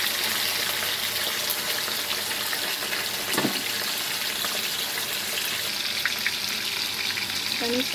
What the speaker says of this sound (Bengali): পনিরটাকে আমরা প্রথমে ভেজে তুলে নেব।